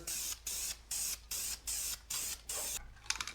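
Primer sprayed from a can onto a valve cover, seven loud hissing bursts in an even rhythm with short gaps, then a few quieter rattles at the end.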